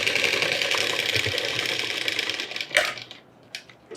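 A sewing machine runs steadily as it stitches a Pathani kurta, a fast, close whirring hum for about three seconds before it slows and stops, followed by a few small clicks.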